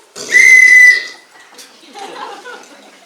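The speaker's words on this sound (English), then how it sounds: "Sound your whistles, boys!" A loud shrill police whistle blast up close during a school stage play, followed by faint muffled voices.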